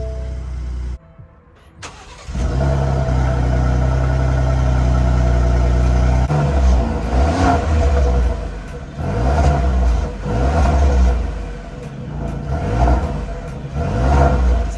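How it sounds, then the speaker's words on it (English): A 2024 Ford F-150 XLT with dual exhausts cranks over briefly, fires up loud and close, then settles into a deep idle broken by several throttle blips that rise and fall. "So let's start this up and see what it sounds like."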